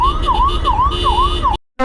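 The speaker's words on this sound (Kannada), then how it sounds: "ಆಂಬುಲೆನ್ಸ್ ಬಡ್ಕೋತಾ ಇದ್ರೆ ಜನ ಜಾಗ ಬಿಡಲ್ರಿ." An ambulance siren wails in a repeating rising-and-falling pattern, loud and close, in road traffic on a highway journey, then cuts off abruptly near the end.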